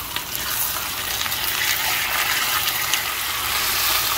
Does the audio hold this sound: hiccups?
no